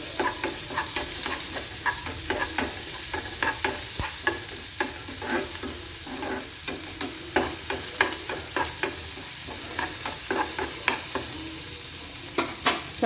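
Sliced onion and curry leaves frying in oil in a pan, a steady sizzle broken by frequent sharp scraping strokes of a spatula, close and fairly loud with no voices.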